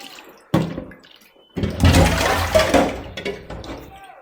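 Splashing and running water as large drumstick leaves are rinsed by hand in a Kerala kitchen, in two bursts separated by a pause, with a brief voice partway through.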